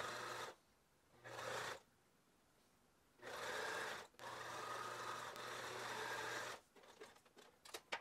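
A sewing machine topstitches along a pinned, detachable fabric ribbon, running in three distinct bursts that start and stop abruptly (the longest lasting a couple of seconds), followed by light rattling handling noises, with no talking.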